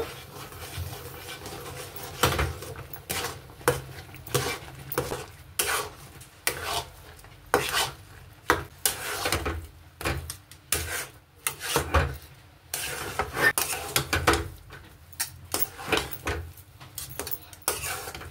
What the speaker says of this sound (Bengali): এইবারে আমি এখানে আস্তে আস্তে এই সুজিগুলো মেশাবো। মিশিয়ে আমি একটা ডো বানিয়ে নেব।